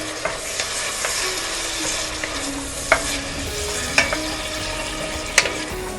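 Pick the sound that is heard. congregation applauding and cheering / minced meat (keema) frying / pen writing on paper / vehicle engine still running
minced meat (keema) frying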